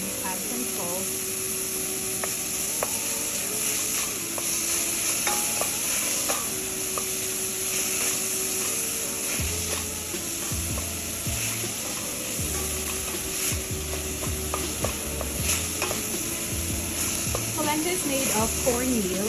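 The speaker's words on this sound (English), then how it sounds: "Help with the sweating of the onions, add some salt." Onions sweat with salt in a pan, giving a steady close sizzle throughout while tonal background music and occasional clatters sit over it.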